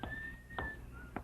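A man whistles through gold teeth as he passes by in a radio drama, a faint thin tone in three short airy bursts with soft footsteps or movement beneath.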